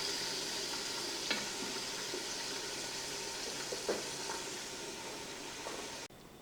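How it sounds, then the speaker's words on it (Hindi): Meat and bones fry in a pressure cooker with ginger-garlic paste for nihari, a steady, soft sizzle with a few light stirring clinks, alone and without talk. "इसमें हम ये अदरक लहसुन का पेस्ट डाल के इसको अच्छे से फ्राई कर लेंगे"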